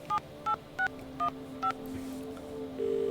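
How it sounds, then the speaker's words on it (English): Five evenly spaced telephone keypad tones beep out in The Dream Machine, each a short clear DTMF blip, followed by a steady tone starting near the end over a faint hum. "Alright, let's use the phone."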